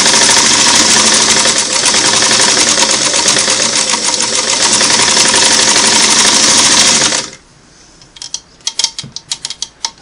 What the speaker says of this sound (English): I want to see if I can transition up onto that and sew through 2 layers.